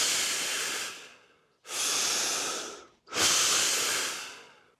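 Three deep, forceful breaths in a Wim Hof breathing exercise, each a long loud rushing airflow heard close up, with short pauses between them and no talking.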